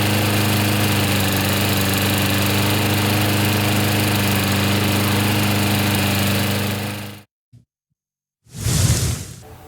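An old Briggs flat head engine on a new lawn mower runs at a steady, loud drone for about seven seconds, then shuts off into silence before a brief rushing burst.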